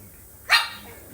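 A Thai Ridgeback dog gives one sharp, fairly close bark, brief and alone against a quiet background.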